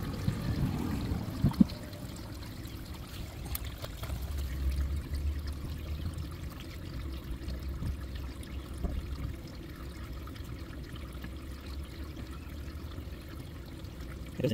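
Water flushes through a cleared RV black tank sewage line, a steady, low rushing and gurgling flow that continues for the whole stretch at moderate volume, with a few faint knocks near the start.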